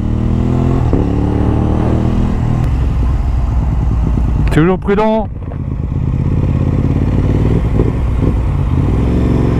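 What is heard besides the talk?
sport motorcycle engine revving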